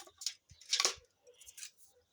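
A few quick snips of scissors cut a strip of material, crisp and close, in separate bursts with short pauses between.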